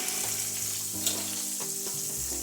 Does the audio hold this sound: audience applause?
no